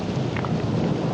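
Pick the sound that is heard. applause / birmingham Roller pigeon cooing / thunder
thunder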